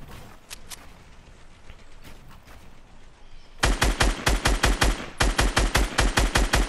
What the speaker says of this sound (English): I'm just shooting at the tree.